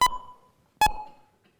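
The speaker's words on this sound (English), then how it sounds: "I'm going to play 2 beeps, and these 2 beeps are going to be separated in time" Two short electronic beeps sound alone, spaced about 0.8 seconds apart, each a loud clean tone that starts sharply and rings off quickly, with silence between them.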